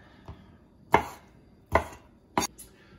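A knife chops shrimp into thirds on a cutting board, one light tap followed by three firm, evenly spaced chops, close and clean with no talk.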